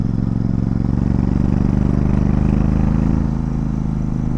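A Royal Enfield Super Meteor 650 motorcycle engine runs loud and close in second gear, a steady deep throbbing drone with a slight swell in the middle, alone with no voices.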